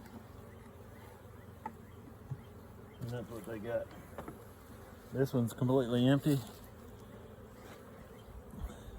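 Honey bees buzz at a beehive during a spring hive check, a faint steady hum running throughout, with someone speaking briefly over it.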